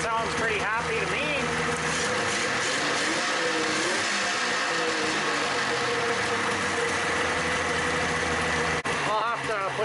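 A Polaris XLT RMK snowmobile engine idles with a constant, raspy drone, close and fairly loud, while people talk over it the whole time.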